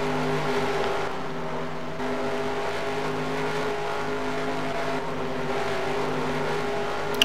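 Stock race car engines drone steadily in a racing video game, a continuous buzzing whine from damaged cars pulling out of the pits, with no talking over it.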